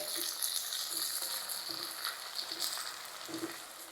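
Tomatoes and onion frying in a pan for chicken pulao, a steady close sizzle with soft stirring scrapes throughout, no talking.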